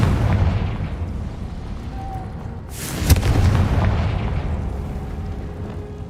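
A Confringo blasting spell bursts in Hogwarts Legacy, a single booming explosion near the middle over a dense rumbling game backdrop, with no voices.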